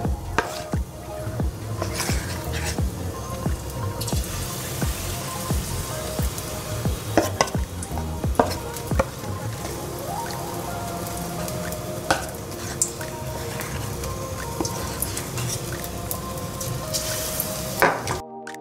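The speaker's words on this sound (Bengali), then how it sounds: "আমরা প্রথমে চিকেনটাকে ভালো করে ভেজে নেব" Chicken fries and is stirred in a pan, a low sizzle running throughout with frequent clacks and scrapes of a utensil against the pan, fairly soft overall.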